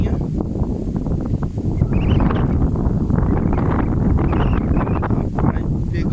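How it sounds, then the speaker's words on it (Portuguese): Strong wind buffets the microphone while cycling along a path past clean water, a constant loud low roar with gusty rustling throughout. "pegou um pedacinho aqui contra o vento"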